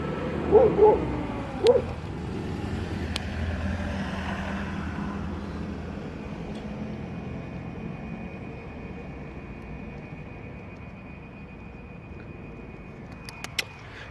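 A few short dog barks and yips early on, then a steady outdoor rumble of distant traffic with no further barking.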